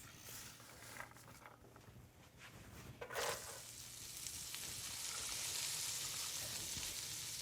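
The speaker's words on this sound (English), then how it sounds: "That's a good little sizzle there." Carrots hit a hot pan of butter and a steady sizzle rises and grows louder, crackling close by with no talking.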